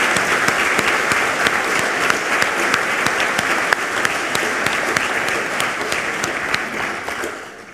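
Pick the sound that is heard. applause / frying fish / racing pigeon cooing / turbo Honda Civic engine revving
applause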